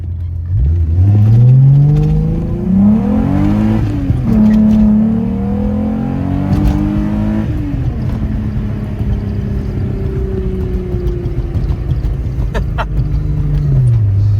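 A 1990 VW Jetta Coupe with a VR6 engine accelerating hard through the gears, its steady loud engine note rising in pitch, dropping at a shift, then climbing again, heard close from inside.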